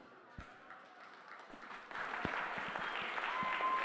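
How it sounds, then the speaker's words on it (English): Audience applause for exhibitors at a youth fair market steer show: scattered clapping starts faint, then swells around the two-second mark into fuller, steady applause from a crowd in an arena, moderately distant. "all these exhibitors deserve a round of applause"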